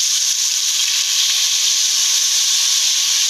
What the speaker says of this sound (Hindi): अब मैं ये तमाम कलेजी फ्राई पैन में तवे में शामिल कर दूंगी।